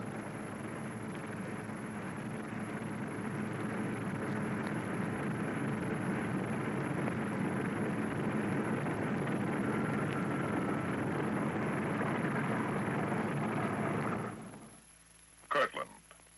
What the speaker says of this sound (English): The bomber ready, it moves off to wait its takeoff time